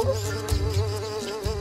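A buzzing fly in a video game where a frog character hunts flies, a steady insect drone with fluctuating pitch, close and continuous under game music.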